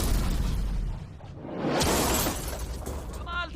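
A blast from a shredder-and-tanks stunt with a Lamborghini, a loud, broad burst that swells and crashes across the clip with shattering debris, followed by a brief high whine near the end.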